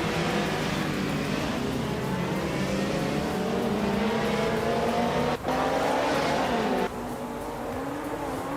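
Classic 1984 Porsche 962C short-tail race cars and rival racers starting at Istanbul Park, a dense, loud roar of racing engines revving and accelerating together, with a sharp gear shift or cut midway and the pack pulling slightly away.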